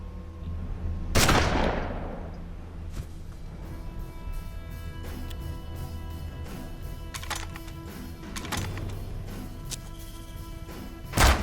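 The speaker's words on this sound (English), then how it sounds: "Not enough damage to kill, so shotgun it is." A loud shotgun blast in the Hard West turn-based western game booms once and rings out, followed by fainter game effects and a second sharp hit near the end.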